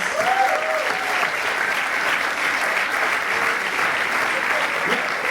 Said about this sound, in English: Please stand up and get your applause.